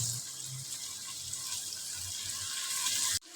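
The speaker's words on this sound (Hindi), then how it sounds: "½ कप में यहाँ पर पानी का ऐड करता हूँ ताकि हमारे टमाटर भी अच्छे से गल जाएं" Half a cup of water poured into tomatoes and spices cooking in a pot, a steady hiss and splash of liquid for about three seconds that stops abruptly.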